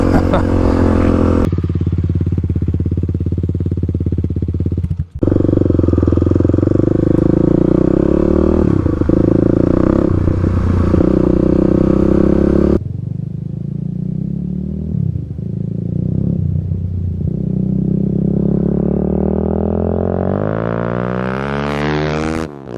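A 35 hp Kawasaki KLX351 dirt bike ridden hard off-road, loud close engine roaring through gear changes with sudden throttle chops and revs climbing toward the end, no talking.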